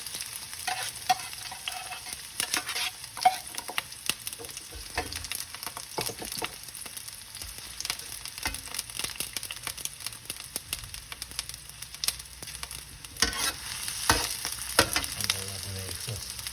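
Onions of mixed sizes frying in a pan for beef lengua, with a soft continuous sizzle broken by repeated scraping and clattering stirs, fairly quiet and close, no talk.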